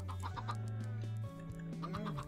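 Chickens in the video game Minecraft clucking in a run of short repeated calls, close and clear, with a low sustained game tone underneath and no talk.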